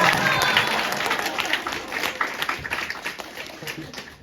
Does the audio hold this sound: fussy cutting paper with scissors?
no